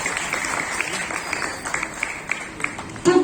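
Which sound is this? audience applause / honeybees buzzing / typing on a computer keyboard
audience applause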